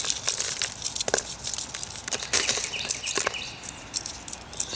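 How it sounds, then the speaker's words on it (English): Dry bok choy seed pods crinkle and crackle as they are crumpled by hand, giving a series of close, crisp rustling bursts throughout. "We'll crumple them some."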